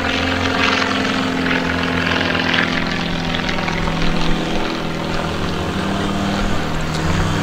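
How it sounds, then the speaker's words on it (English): A propeller aircraft flies overhead with a loud, steady droning roar that holds throughout, its engine hum continuous and close. "we have a lot of planes here."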